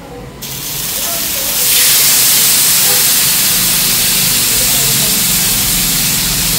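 Two pieces of pork belly (liempo) hit a hot grill and burst into a loud, steady sizzle that rises sharply within the first two seconds and then holds as a broad, close hiss.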